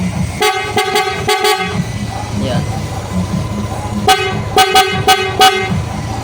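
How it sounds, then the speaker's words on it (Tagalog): A loud dual-contact horn on a Yamaha Aerox 155 motorcycle blasts in quick bursts, four short honks, a pause with a brief spoken word, then another run of four honks. "pag pindutin natin, yan, ito yung kanyang sa loud horn"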